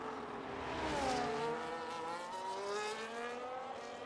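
A Ferrari race car in a racing video game on a push lap, its engine screaming in a sustained high tone that sweeps down and back up through gear changes, steady and loud with no voices.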